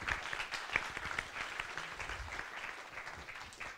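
An audience claps to welcome academicians at a university lecture. The applause is a steady, moderately close patter of many hands that lasts the whole moment with no speech over it.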